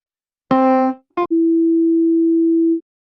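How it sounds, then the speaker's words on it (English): Two pure electronic tones a perfect fifth apart: a short harmonic-rich tone, a brief blip, then a long steady sine tone held for about a second and a half, clean and loud against silence. "That is the fifth, and together they ring as a chord."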